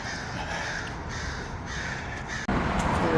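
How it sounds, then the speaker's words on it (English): A crow caws several times in a steady series of harsh calls, heard outdoors under a double-decker bridge over a constant wash of traffic or wind noise. "now that was definitely a crow that just flew there"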